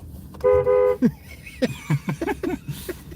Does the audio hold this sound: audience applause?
no